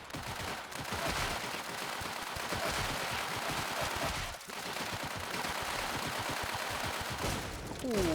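Sustained rapid gunfire in a shooting video game, dense continuous bursts close and loud for several seconds with a brief pause midway, then firing again.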